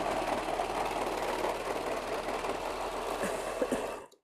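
A sewing machine stitches folded ribbing onto a kids' tracksuit, running as a steady, continuous mechanical drone for about four seconds before stopping abruptly.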